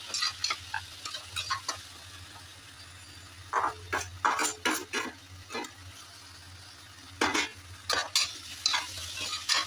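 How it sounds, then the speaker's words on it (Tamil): Onions and tomatoes fry in oil for a Chettinad chicken gravy, with a low steady sizzle under repeated scraping stirs of a spoon against the pan, coming in clustered bursts. "இதை நல்லா எண்ணெயில் நல்லா வதங்கிக்கணும்"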